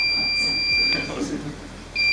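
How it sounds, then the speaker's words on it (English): Two steady high-pitched electronic alarm tones, with a short gap between them, over quiet background noise and a brief thump. "So now we have the beeps, the audio detection."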